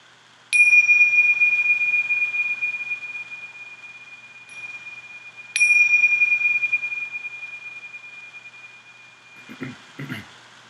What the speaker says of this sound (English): So ring the bell simply to end the meditation.